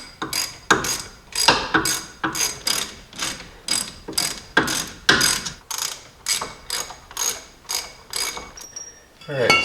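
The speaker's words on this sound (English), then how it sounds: "I'm going to tighten this up a little bit on each one. That way it sucks it in evenly against the knuckle." A ratchet tightening bolts on a Jeep Dana 30/44 ball joint knuckle, its steady rhythmic clicking bursts repeating close and loud, each stroke evenly spaced with short pauses.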